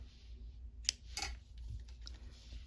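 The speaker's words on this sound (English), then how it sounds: "cut the yarn a little long." Scissors snip through crochet yarn in a quiet room, two short faint cuts close together.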